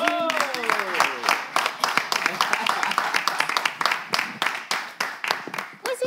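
A studio audience on a French-language talk show claps to welcome a bailiff, sharp individual claps in a brisk, uneven run that starts after a voice speaks and continues alone to the end.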